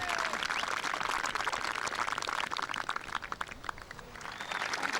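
A home crowd at a women's golf match applauds a holed putt on the 17th, a sustained wash of many hands clapping at a distance that thins out toward the end.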